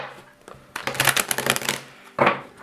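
Playing cards being shuffled at home: a short riffle burst of dense rapid clicks lasting about a second, a pause, then a second quick riffle, close and fairly quiet with no talking.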